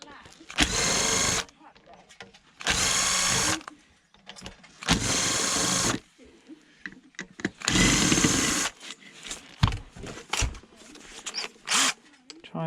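Power drill unscrewing screws during a taxi system teardown, running in four loud bursts of a second or two each, separated by pauses filled with quieter clicks, handling noises and talk.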